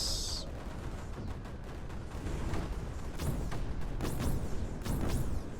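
Cannons fire in the strategy video game Creeper World 4, a run of repeated booming blasts with whooshing, sweeping tails, growing louder and more frequent toward the end, with no talking.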